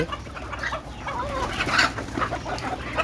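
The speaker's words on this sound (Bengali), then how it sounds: "এই যে দেখেন মুরগি ছাড়লো" Chickens being let out in a brooding shed cluck and squawk in a busy, overlapping jumble of calls, close and fairly loud throughout.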